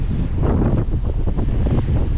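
Strong ocean waves at a sandy beach on Jomalig rumble and surge, heavy and close, with gusty wind buffeting the microphone throughout.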